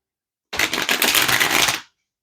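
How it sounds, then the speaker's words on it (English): Tarot cards are shuffled in a single close, loud burst of rapid riffling lasting just over a second, beginning and ending abruptly against silence. "I'm gonna get one more shuffle"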